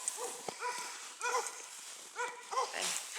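Dogs bark repeatedly in a village, in short bursts of yips and barks that sound fairly close and come in several clusters over a few seconds.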